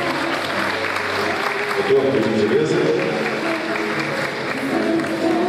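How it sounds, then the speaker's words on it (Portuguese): Audience applause welcoming a panel speaker at a conference on drug prevention and legalization in Brazil: dense, steady clapping from a crowd filling the room throughout, with someone speaking briefly over it. "Vamos receber uma salva de palmas o Dr."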